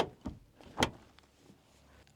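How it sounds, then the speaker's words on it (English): A van door is pushed shut against a BougeRV 12V 23-quart portable car fridge, with a soft knock and then one sharper thump, close and otherwise quiet. "I can shut the door, but it's pushing on it."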